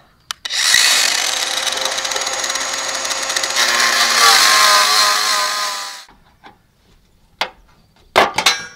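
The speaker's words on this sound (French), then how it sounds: "je suis obligé de couper au milieu de l'écrou" A loud power tool grinds through a steel nut on a riding-mower cutting deck, a harsh continuous whine for about six seconds before it stops. A few scattered clanks and knocks follow.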